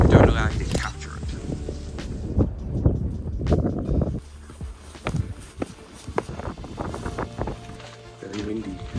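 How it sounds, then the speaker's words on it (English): Gusty wind buffets the microphone with uneven rumbling bursts while people talk over it. "Very windy."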